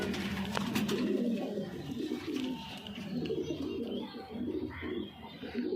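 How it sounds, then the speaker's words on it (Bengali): Pigeons at a home loft coo in low, repeated throaty pulses, fairly close and steady throughout, with faint chirps and background movement. "খুব সুন্দর পায়রা।"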